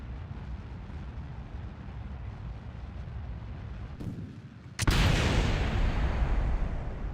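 A rocket blows up in Kerbal Space Program: a loud, sudden burst breaks over steady engine roar, then a dense, broad rumble carries on to the end, with no voices.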